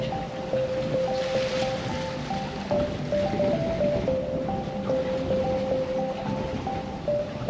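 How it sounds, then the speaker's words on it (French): Steady storm wind roar and rushing sea water around a moving boat under sail at about seven and a half knots, with a constant droning hum underneath; no talking. "Le vent tourne, on est en train de le prendre de travers là."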